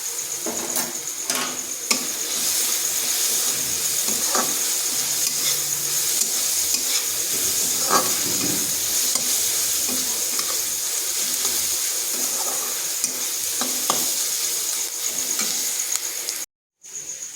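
Spices with Kashmiri chilli powder frying in a pan, a loud continuous sizzle under repeated spoon-stirring scrapes, close up with no talk and a brief dropout near the end.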